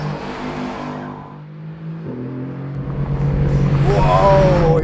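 A Mercedes-AMG GT R driven hard on a race track, its engine loud and close, dipping briefly and then revving and building to a strong roar at the end.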